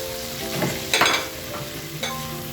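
Pork liver sautés in a hot pan, a steady close sizzle broken by a few stirring scrapes and clinks.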